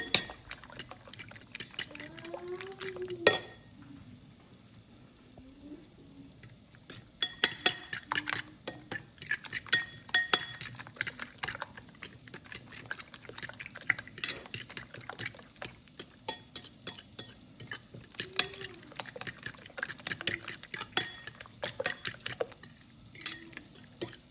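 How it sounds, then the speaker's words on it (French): A spoon stirs sauce with a stock cube in a pot, producing repeated light metallic clinks and scrapes against the pan, with soft liquid sloshing between strokes. "Je mets un peu de cube et puis je vais mélanger."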